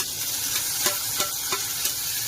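Chopped onion sautéing in an oiled pan for upma, a steady soft sizzle with a few scraping stirs of a spoon at regular intervals, close and clear with no talk.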